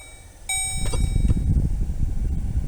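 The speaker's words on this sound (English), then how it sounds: "see if the blower motor works on all 5 speeds" A 2003 Chevrolet Malibu's blower fan switches on with a click and settles into a steady low whooshing rumble of moving air, close and continuous.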